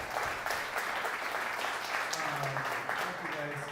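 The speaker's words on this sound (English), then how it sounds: "big thanks and applause, please, to Flint, Michigan Films" Applause from a small audience at an evening event in a coffee shop, steady clapping with voices talking over it throughout.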